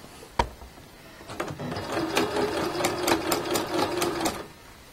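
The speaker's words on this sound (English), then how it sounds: "So let me get one of these sewed" Close sewing machine stitching elastic bands for hair bows, starting with a sharp click and then running in a fast rhythmic chatter for about three seconds before stopping, with no talking.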